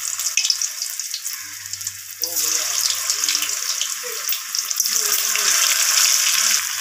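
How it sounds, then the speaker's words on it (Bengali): Boiled potatoes tipped into hot oil in a pan, bursting into a loud, steady sizzle after a quieter opening, with the crackling frying sustained close by to the end. "এরপর আমি এখানে সিদ্ধ করে রাখা আলুগুলোকে তেলের মধ্যে দিয়ে দেব।"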